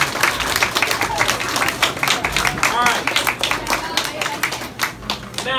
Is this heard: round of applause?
yes